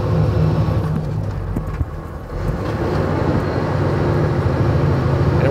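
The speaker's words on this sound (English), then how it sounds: "We're going to drop 2 gears." Oil delivery truck on a back road dropping two gears, with a steady loud low engine rumble and drivetrain drone throughout, a brief dip and shift bump near the middle, then the engine settling at the lower gear.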